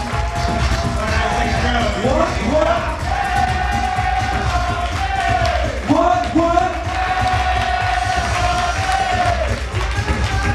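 A large crowd at an awards ball cheers and yells loudly and continuously, with whoops and a shouting voice rising above the dense roar of the audience.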